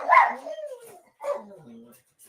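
A dog gives short yips and whimpering barks in two close bursts indoors, with brief pauses between them.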